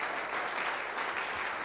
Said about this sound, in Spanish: Le das aplauso fuerte